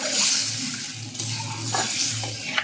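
Water splashes and gurgles as it is poured into a pan of simmering fish curry, a close, continuous pour with bubbly sloshing and a light clink near the end.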